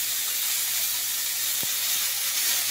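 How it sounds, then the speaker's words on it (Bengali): Chopped onion and green chilli go into a hot pan while making a crispy bird's-nest snack, producing a continuous loud, even hiss of sizzling with one brief low thump near the middle. "এবার আমি এর মধ্যে পেঁয়াজ কুচি আর লঙ্কা কুচিটা দিয়ে দিলাম।"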